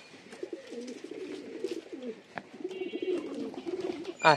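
Pigeons in a Bangladeshi village coo in repeated low, rolling phrases close by, with a few brief knocks and a sharp rustle near the end.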